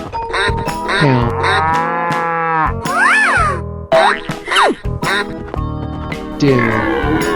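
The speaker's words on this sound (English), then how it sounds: "Cow." A cartoonish cow moos loudly and repeatedly in a 3D animal game, drawn-out tonal calls mixed with bouncy boing-like effects and game jingles, close and prominent throughout.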